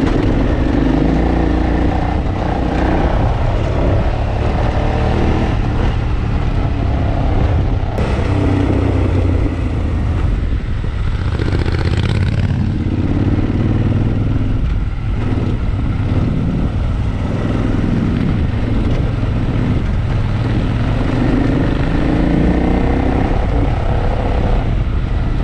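A Triumph Scrambler 1200 XE motorcycle roars continuously while riding, a loud steady engine drone mixed with heavy wind rush throughout, with no voices.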